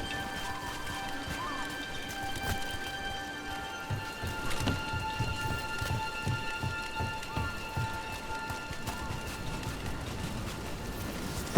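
Steady rain falls in the fantasy game Dragon Age: The Veilguard, a soft continuous patter with scattered drip taps and faint low rumbles, heard alone at a moderate distance.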